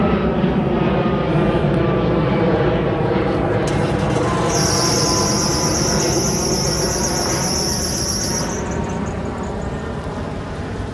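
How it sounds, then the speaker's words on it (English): An idling vehicle with a worn idler pulley tensioner gives a shrill, steady belt squeal for a few seconds over a low engine rumble, then the squeal cuts off while the idle carries on. "Sounds like they need to fix the idler pulley tensioner. Because it squeals until she puts it in drive."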